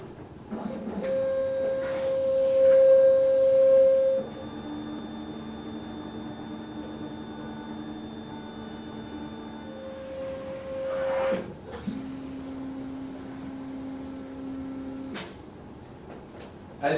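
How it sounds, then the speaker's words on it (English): A Lighthouse CPM 200 colour label printer runs with steady mechanical whirring and long electronic tones that shift pitch in several stages, separated by brief clicks, with no talking. "the printer has printed all of the black data in the label"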